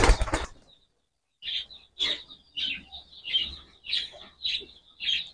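Caged birds at a budget aqua and pet shop flap and chirp in short repeated bursts, a loud wing flutter opening, then a run of bright, close calls at a steady pace with faint low hum beneath.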